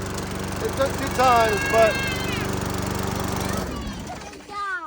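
A lawn mower engine with a freshly rebuilt carburetor runs close by in a steady, droning idle, with voices speaking over it, then cuts out shortly before the end.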